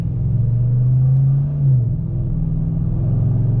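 A truck with a 5.3 engine and Corsa Sport exhaust pulls away, heard from inside the cab as a steady, loud low rumble with a brief rise and dip in pitch midway.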